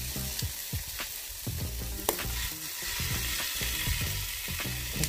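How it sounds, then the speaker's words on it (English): Loud, continuous sizzling of seasoned chicken legs on a hot Ninja Foodi grill, with crackles and a few sharp metallic clicks, close up and without speech. "We're going to the sizzle. Put those seasoned chicken legs in there."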